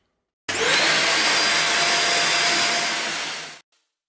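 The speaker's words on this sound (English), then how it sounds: "I've got my Dyson Cordless Vacuum, and well, I've put it here" A Dyson cordless vacuum cleaner runs at a steady, loud whine for about three seconds, switching on abruptly and winding down as it cuts off, with no other sounds.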